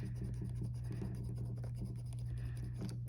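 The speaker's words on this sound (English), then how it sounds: "So I'm actually gonna erase this guy here." An eraser rubs back and forth over pencil writing on a paper budget sheet, producing a continuous close, quiet scratchy scrubbing over a low steady room hum.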